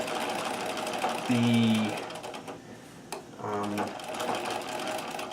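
A Singer 237 sewing machine stitches in two short motor bursts with whirring and a clattering bobbin, heard close by. Between the bursts there is a steady background and a brief word of speech.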